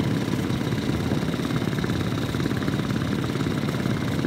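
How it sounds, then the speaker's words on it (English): A boat engine runs at a steady idle-like purr while cruising on a mild day, a close, even rhythmic throb with a continuous low rumble and no speech. "Boat is just purring along."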